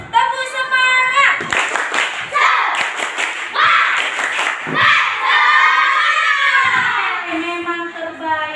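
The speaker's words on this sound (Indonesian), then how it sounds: "ayo kita yel-yel dulu. Tepuk semangat." A class of fifth-grade schoolchildren performs the rhythmic "tepuk semangat" clapping chant, with bursts of patterned claps and thumps between loud, sung-out group shouts, all close and energetic in a classroom.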